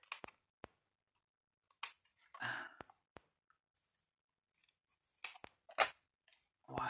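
Scissors cut a piece of paper for a handmade photo album, a series of sharp close snips spaced irregularly with quiet gaps between, plus a soft breathy sigh.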